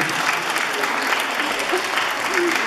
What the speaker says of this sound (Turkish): Alkışlıyoruz orada.